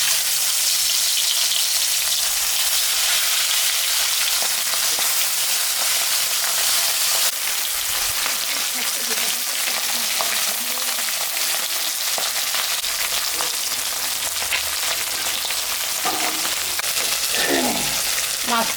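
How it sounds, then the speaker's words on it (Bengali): Fish, pabda, frying in hot oil in a pan gives a dense, continuous loud sizzle and crackle close by, with a brief sharp hiss surge partway through and faint stirring, no talk. "মাছটা আমি ভাজে নেবো।"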